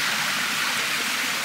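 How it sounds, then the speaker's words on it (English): A waterfall pouring in the rain in Bali, a loud, dense and steady broadband rush of falling water close by with no voices. "Waterfall in the rain."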